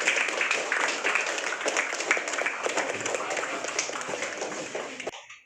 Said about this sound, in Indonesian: Mari kita berikan tepuk tangan untuk teman-teman kita.